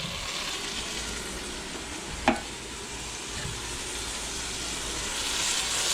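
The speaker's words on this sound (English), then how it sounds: "I am sweating my celery, bell pepper, and onion." Celery, bell pepper and onion sweat in a Dutch oven at a campsite, making a steady, even sizzle throughout, with one brief clink of a utensil partway through.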